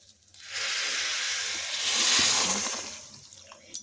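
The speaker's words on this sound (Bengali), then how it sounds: "এখন এর মধ্যে দিচ্ছি গরম জল।" Hot water poured into frying rice for soya pulao, a sustained hissing sizzle with watery rush that swells for about three seconds, close and loud, then fades out.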